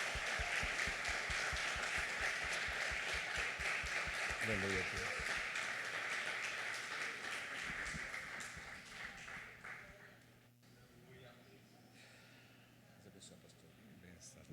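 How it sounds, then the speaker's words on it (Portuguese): A church congregation applauds with steady, dense clapping for about ten seconds before it dies away, leaving a quiet room where a voice speaks briefly. "Aplauda Ele, igreja, em nome de Jesus."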